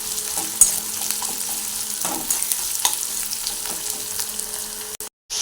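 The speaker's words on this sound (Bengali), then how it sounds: "আদা রসুন লঙ্কা বাটাটাকে ভালো কষানো হয়ে গেছে।" Ginger, garlic and chilli paste fries with onions and capsicum in a pan, a soft continuous sizzle with occasional stirring scrapes and clicks, close by and without speech, cut by a brief drop out near the end.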